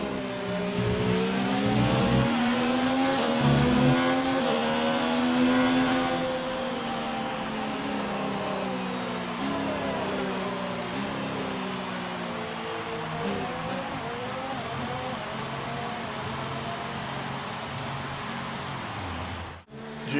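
F1 race cars in the F1 2019 video game at the Canadian Grand Prix, high-pitched engines whining and shifting as cars pass and accelerate, a steady loud drone that lasts throughout with no talking.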